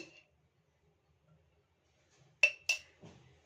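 A metal cooking pot is set down and handled on the stove while ghee goes in, giving two sharp clanks after a long quiet stretch, then a softer knock.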